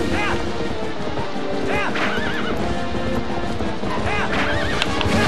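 Horse neighing and galloping in the Zelda Twilight Princess video game, with repeated whinnies over steady clip-clop hoofbeats and busy game-world noise throughout.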